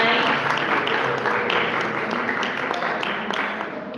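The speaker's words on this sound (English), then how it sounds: "let's give them all another round of applause for coming tonight" An audience at a candidates' evening applauds, a dense wash of clapping at moderate distance that gradually thins toward the end.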